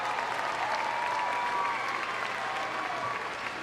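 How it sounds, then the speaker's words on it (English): Arena crowd at a Crufts 2014 team dog agility semi-final claps steadily, a dense, continuous applause with faint whistles and cheering mixed in, no speech on top. "Go on, give them another clap,"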